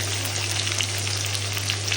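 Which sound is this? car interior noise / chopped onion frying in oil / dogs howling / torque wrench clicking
chopped onion frying in oil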